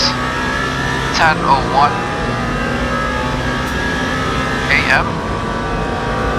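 Race car engines of LMP2 prototypes in the racing game Le Mans Ultimate, set at the 24 Hours of Le Mans near Arnage, hum steadily under continuous commentary, with brief revving passes swelling twice.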